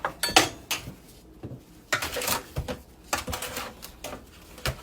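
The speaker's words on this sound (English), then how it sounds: "I'm mixing it in with my spoon." A spoon scrapes and clinks against a bowl while garlic and seasoning are mixed into turkey necks, giving irregular close-up taps and rattles in short bursts with quiet gaps between.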